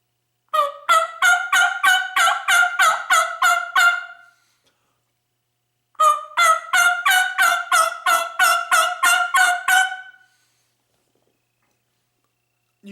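Two runs of rapid, evenly spaced turkey yelps from a mouth call, each a string of about a dozen sharp notes, separated by a short silence.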